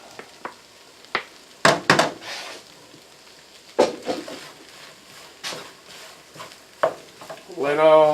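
Chicken fried rice cooks in a skillet, with scattered sharp scrapes and taps of a utensil stirring against the pan over a faint background sizzle, ending with a brief voice.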